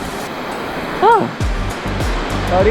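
A strong water current rushes over slippery rocks with a loud, continuous roar, and a voice briefly speaks over the torrent.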